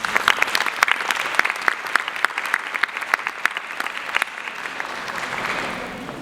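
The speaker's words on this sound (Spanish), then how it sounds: "Por favor, recibámosla con un fuerte aplauso." Audience at a national nursing congress applauds to welcome a speaker, a dense burst of many hands clapping that stays steady and fairly loud, then thins slightly toward the end.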